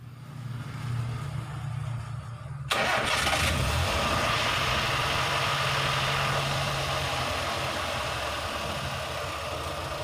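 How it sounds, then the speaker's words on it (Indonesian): A Daihatsu Gran Max engine cranks and catches after radiator bleeding, then settles into a steady, loud idle that runs on without voices. "radiatornya, lalu kita hidupkan lagi mesin."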